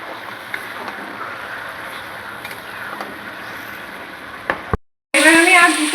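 Mutton curry sizzles steadily in hot oil in a frying pan while being stirred, a constant hiss with small clicks, briefly cutting out near the end before returning louder with a voice over it.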